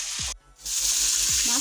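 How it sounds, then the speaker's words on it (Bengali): Fish kebab pieces frying in oil in a kadai, a loud steady sizzle close by, briefly cut off once before resuming, with a couple of low knocks from the pan. "মাছটাকে উল্টিয়ে পাল্টে ভেজে নিলাম।"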